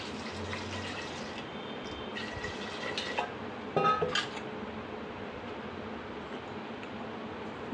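Water runs steadily into a metal pressure cooker pot holding raw peanut pods, with a faint hiss and a couple of clinks and splashes midway.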